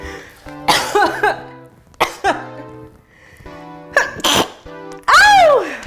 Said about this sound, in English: If you don't cough when you season your flour, you didn't use enough